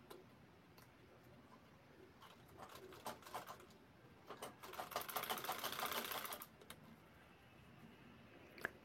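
A sewing machine stitching a hand bag, rapid ticking bursts of stitching that build to a dense run midway, then stop, quiet and close with soft handling noises between.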